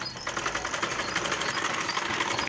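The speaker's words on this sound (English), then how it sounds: "You sew round to the end of the sleeve." An electric sewing machine stitches along the sleeve of a cloth poncho dress, giving a steady, fast, close mechanical whir without pause for over two seconds before stopping abruptly.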